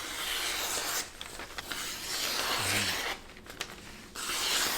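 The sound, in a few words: Damascus stainless chef knife cutting newspaper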